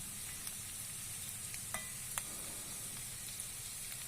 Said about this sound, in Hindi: अब इसके अंदर एक अदद मीडियम साइज़ का प्याज के स्लाइस डाल देंगे। 2 से 3 मिनट के लिए इनको भी सौते करेंगे